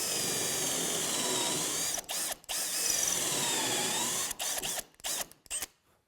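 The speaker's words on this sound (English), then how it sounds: "We're going to get both holes on both sides drilled inside and out." A power drill bores holes in the wooden transom of a TotalBoat work skiff, giving a loud, close, steady whine that stops briefly and restarts several times, ending in short bursts.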